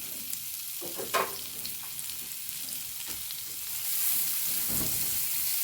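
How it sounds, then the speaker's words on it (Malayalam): Chopped onion sautéing in hot oil for a Kerala kottappam dish: a steady close sizzle with occasional stirring scrapes, swelling louder near the end, with no talking. "എണ്ണയിൽ ഇതൊന്ന് വാട്ടിയെടുക്കട്ടെ"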